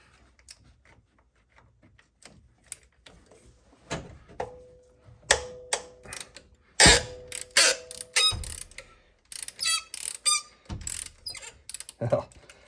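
A ratchet works on a bolt at the alternator of a 2005 Honda CR-V, with bursts of close, sharp clicking and metallic clanks that come in irregular runs and grow busier toward the end.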